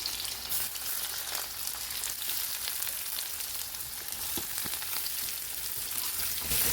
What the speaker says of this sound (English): just quickly flash fry them for half a minute maybe on high heat